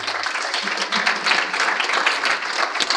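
An audience at the Devnexus 2015 conference claps at the end of a talk: a steady patter of many hands, moderately loud and continuous for a few seconds.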